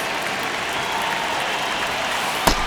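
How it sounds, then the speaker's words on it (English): Steady roar of a stadium crowd at a baseball game in MLB 26, a dense continuous wash of noise with a brief sharp knock near the end. "Crowd locked in right now."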